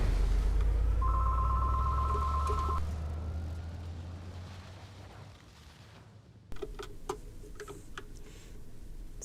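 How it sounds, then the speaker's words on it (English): A home telephone rings in a video game, one electronic trill burst over a low rumbling background, followed by a quieter stretch and then a change to clicking, ticking ambience; no voices. "the phone's ringing"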